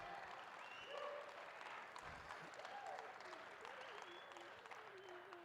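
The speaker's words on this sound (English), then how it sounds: "Stand up, Max. Round of applause." Audience applause at a TEDx event at Grand Canyon University, steady clapping from a crowd in a hall, moderately loud and sustained throughout.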